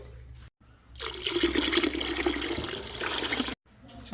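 Two cups of water pour steadily into rice for fish biryani for about two seconds, a bright broadband splashing rush, then stop, with a faint background hum before and after.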